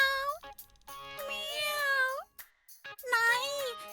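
A cat yowls loudly in a story of Ganesha and the cat, giving three long, wavering, high-pitched cries with short breaks between them, close and prominent.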